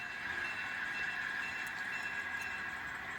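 An HO scale model train horn sounds one sustained blast, a steady, fairly faint, reedy tone that holds for about three seconds with faint clicks behind it.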